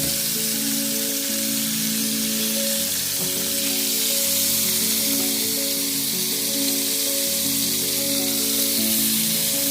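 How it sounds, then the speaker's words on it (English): Butter melts and sizzles in a pan just used for cooking fish, a steady close crackling hiss that continues evenly with no voices. "We're going to use the same pan, and we just need to add some butter."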